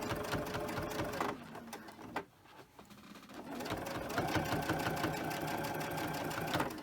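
A sewing machine stitching a fabric sleep mask runs in a fast, steady mechanical chatter, close and clear, pausing briefly in the middle before resuming at full speed, with no talking.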